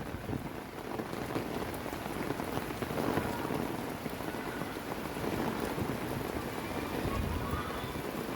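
Steady rain falling in the Philippines during the rainy season, a dense continuous hiss of drops pattering on surfaces, close and even throughout with no talk.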